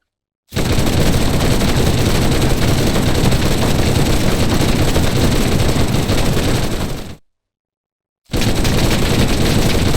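Lewis gun firing in a video game, a loud continuous burst of automatic fire lasting several seconds, a brief gap, then another burst starting up.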